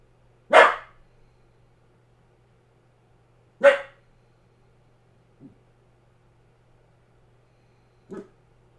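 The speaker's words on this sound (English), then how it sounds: "Maxie, what are we barking at?" Dog barking in separated bursts: two loud sharp barks a few seconds apart, then two softer, shorter woofs, with quiet between.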